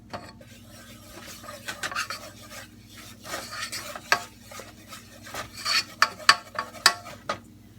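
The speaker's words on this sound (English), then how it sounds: "Grab a whisk because we're going to whisk in." A whisk stirs and scrapes a flour and butter roux in a pan, giving irregular rasping strokes that grow sharper and more rhythmic toward the end. It is close and fairly quiet, with no talking.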